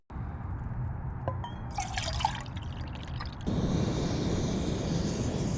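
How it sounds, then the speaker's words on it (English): Water poured into a small cup at a wild campsite, with a few light clinks and drips at first, then a steady, close pouring trickle that fills the cup. "I put the water in the cup"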